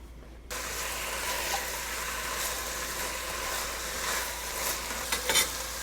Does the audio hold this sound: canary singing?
no